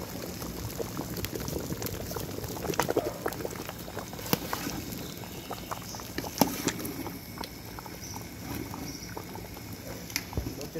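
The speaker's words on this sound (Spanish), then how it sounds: "ya esto va a empezar a hervir" A big pot of sancocho de mondongo bubbles at a rolling boil, dense gurgling and popping with scattered louder plops, close and continuous, with faint voices low in the background.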